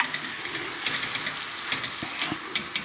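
Calamari sautéing in a pan with hot sauce, giving a steady, close sizzle with faint crackles and a few soft taps throughout.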